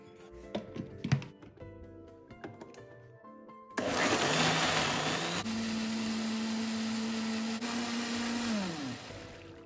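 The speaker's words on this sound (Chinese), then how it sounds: "如果家中搅拌器不能承受高温，那就需要等食材降温后才搅拌。" Fried chili sauce ingredients are loud in a blender, whose motor starts abruptly after some clattering and knocks, then whirs steadily for several seconds with a shifting pitch before winding down near the end.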